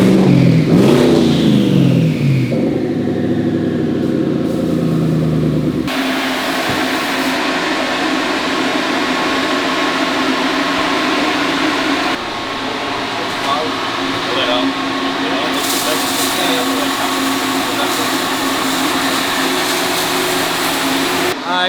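A stock-motor twin-turbo 1200-horsepower Ford F150 with a 5.0 engine makes a loud, sustained roar that builds, holds, and shifts over about twenty seconds, with the tone stepping up in stages as if through gears.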